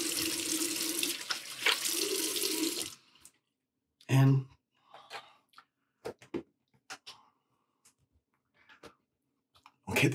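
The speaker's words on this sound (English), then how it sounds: "Okay, time to rinse off the alum." Running tap water pours into a sink for about three seconds while alum is rinsed off a face during a wet shave, followed by scattered splashes, small taps and brief movement sounds.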